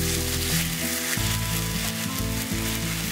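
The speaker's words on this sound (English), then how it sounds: "Make sure you flip several times during the cooking process and keep an eye out so the samgyeopsal doesn't burn." Thin slices of samgyeopsal pork belly sizzling in a pan, a loud close steady sizzle with spattering crackles, alongside a steady layered background hum that shifts pitch a few times, with no voices.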